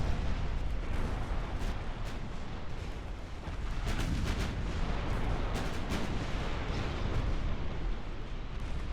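Battleship guns fire armor-piercing rounds in the naval warfare game Ultimate Admiral: Dreadnoughts, a dense, loud, continuous barrage of overlapping booming blasts and rumbling explosions that runs throughout with no let-up.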